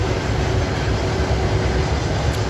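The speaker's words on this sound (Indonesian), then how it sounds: "Tuh, kereta barang panjang." A long freight train rolls past close by, a loud continuous rumble and rattle of wagons on the rails with no break across the stretch.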